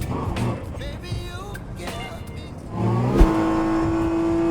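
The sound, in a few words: engine whine on downshift of GT3 race car, rFactor 2 video game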